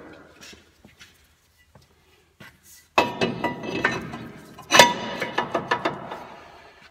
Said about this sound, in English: I'm going to go ahead and install the replacement rotor